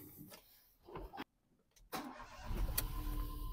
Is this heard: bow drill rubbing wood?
no